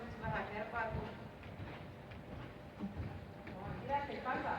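Horse cantering during a riding lesson, its hoofbeats a steady three-beat rhythm that repeats close by, mixed with a trainer's spoken coaching.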